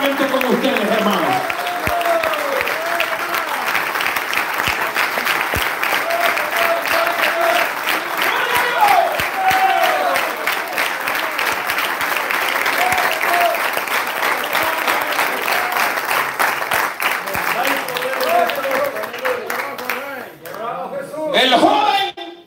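A church congregation applauds during a Spanish-language sermon, steady dense clapping sustained for about twenty seconds with voices mixed in, fading out at the end.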